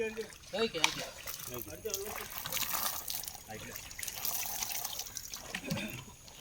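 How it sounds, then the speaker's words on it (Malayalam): Water pours and splashes steadily for several seconds during a fish pond harvest, trickling and gurgling, while people talk nearby. "ഞാൻ ഇവിടുന്ന് വെള്ളം ഒഴിച്ചോളാം."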